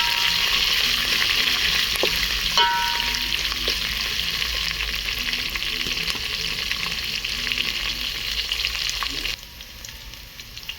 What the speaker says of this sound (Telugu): ఇక్కడ మొత్తం ఒకసారి ఇలా కలిపి బాగా వేగనిద్దాం